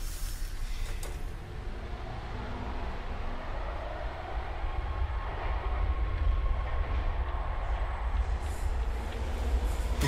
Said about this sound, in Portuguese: dentro do vagão do metrô